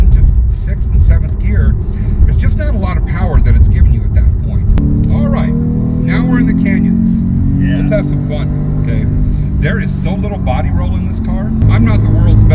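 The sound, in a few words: Porsche 911 991 engine accelerating through the gears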